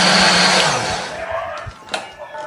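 An electric blender grinds shallots, garlic, curly red chili, bird's eye chili and candlenuts with a little water into a spice paste, a loud steady whir that eases and fades over a few seconds.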